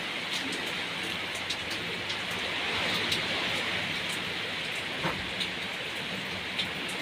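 Rain falling on a car, a dense steady patter of drops drumming on the surface with scattered sharper individual hits, close and continuous without talk.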